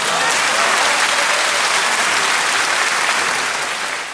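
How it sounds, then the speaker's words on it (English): A gathered audience breaks into loud, dense applause that holds steady for about four seconds before easing slightly at the end, with no voices over it. "Let me give you an applause for that."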